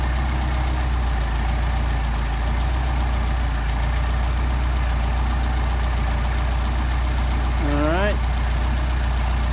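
Mercedes 190SL engine fed by Solex carburetors idling steadily up close, a continuous low rumble, with a brief rising-and-falling whine near the end.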